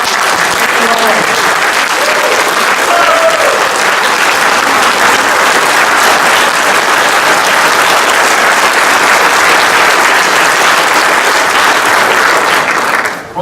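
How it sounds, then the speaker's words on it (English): A conference audience at a firearm freedom event breaks into loud, sustained applause, dense clapping that fills the room for over ten seconds before tapering off, with faint voices at the start. "I think she needs a round of applause."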